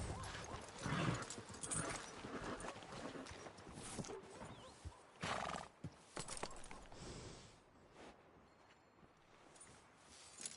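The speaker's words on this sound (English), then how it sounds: "Are you gonna mount that new horse of yours or not?" Horse hooves clip-clop faintly with a brief whinny in Red Dead Redemption 2, quiet and intermittent against a soft outdoor game ambience.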